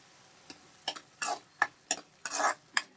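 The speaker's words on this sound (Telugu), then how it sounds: "ఇలా వేపుకోండి దోరగా వేయించాలండి" Koyinga fish from the Godavari region fries in a pan while a ladle stirs it, giving several short scraping strokes with a soft sizzle between them, close up and with no talk.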